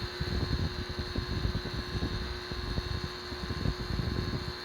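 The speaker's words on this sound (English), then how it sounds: "I'm just going to take my wheel, and you'll notice how the wheel rolls into the product, so it's actually grabbing it and dragging it across the surface." A polishing wheel buffs heavily oxidized gelcoat on a Larson boat, giving a steady close machine whir with a fluttering, rumbling texture throughout and no talking.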